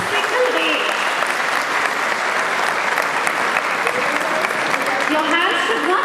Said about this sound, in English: Parents, can we have a big round of applause for the children now?